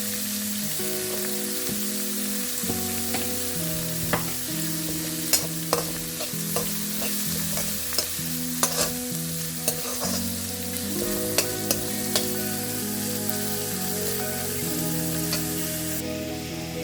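Onion frying in a pan for oats kara bath, a continuous close sizzle with scattered crackles and pops, set against a steady melodic backing.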